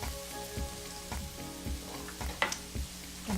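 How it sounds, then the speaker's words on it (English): Onions sweat in a hot pan with a steady close sizzle, broken by several stirring scrapes and clatters at irregular intervals. "we're going to sweat the onion until they're a little bit soft"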